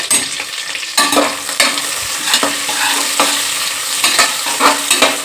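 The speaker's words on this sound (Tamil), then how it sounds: "அப்படியே சேர்த்து கருவேப்பிலையும் போட்டுக்கிறோம். ஒரு கிண்டல்." Curry leaves dropped into frying biryani masala and stirred, loud close sizzling with repeated scraping strokes of a spoon against the pan at an uneven rhythm.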